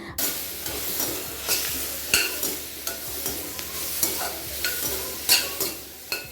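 Onion, a small tomato and curry leaves sauté with spices in a pan, a soft sizzle beneath repeated close stirring scrapes that land every half second or so, with no voices.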